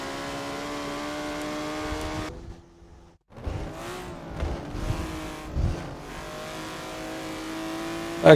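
Race car engines in the MTS PRO GT game, Reborn cars, drone and rev at close range. A sudden cut-off drops to near silence, then revving returns with rising and falling pitch through gear changes.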